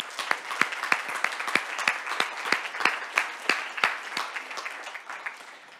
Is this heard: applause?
yes